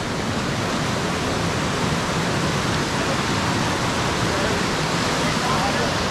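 A Himalayan waterfall rushes in a steady, loud, dense roar of falling water near a wooden bridge on a mountain hiking trail, unbroken from start to finish.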